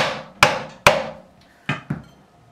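A hammer taps a fret into a Squier bass neck: four crisp, close strikes in two pairs, each sharp knock ringing briefly, with quiet between them.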